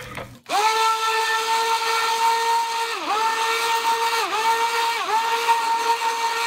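A stick blender whirs loudly as it mixes cold-process liquid soap paste with no crockpot. It starts suddenly and hums steadily, and its pitch dips briefly a few times as the load on the motor changes.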